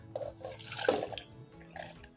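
Cooking water being drained off boiled peas and beetroot, giving a few faint splashes and trickling drips over a quiet background.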